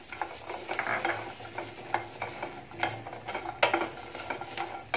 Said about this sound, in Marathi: आणि ही मिरची भाजून घ्यायची आहे।